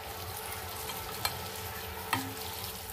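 Sliced onions fry in hot vegetable oil in a pan, a steady broadband sizzle with occasional stirring knocks and scrapes, close and continuous with no talking.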